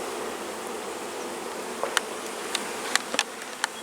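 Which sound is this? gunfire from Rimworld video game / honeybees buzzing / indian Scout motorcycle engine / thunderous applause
honeybees buzzing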